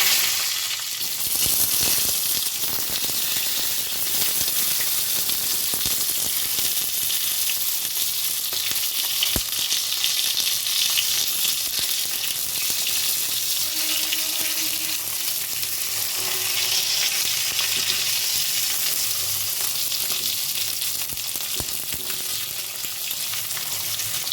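Cumin seeds and tomato frying in a pan for masala paneer, a dense, steady sizzle and crackle that holds loud and close throughout, with some stirring.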